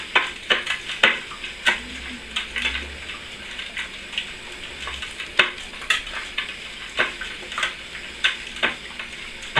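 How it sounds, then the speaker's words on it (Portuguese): Pizza dough mixture being stirred in a bowl right after oil is poured in, a near and steady run of wet scraping and clicking strokes that repeat in an uneven rhythm, with no voice over them. "Coloco o óleo aqui, continua mexendo."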